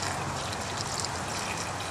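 Water bubbles and gushes out of an irrigation pump being winterized, a steady close wash of liquid noise over the whole moment with no voices.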